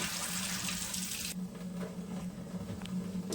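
Tap water runs steadily into a sink as cut cauliflower pieces are washed, a soft continuous splashing rush that eases off partway through, with faint clinks of handling.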